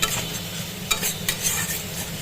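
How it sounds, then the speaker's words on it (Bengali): Tomatoes and spices for bhetki fish bone chorchori being stirred in a pan over a lowered gas flame, a soft continuous sizzle with a few quick scraping stirs, close and alone. "গ্যাসের ফ্লেমটাকে একটু লো করে দিলাম দিয়ে একটু ভালো করে নাড়ছি টমেটো ফমেটোগুলো একটু বেশ মশলার সাথে মাখা মাখা হয়ে যাবে"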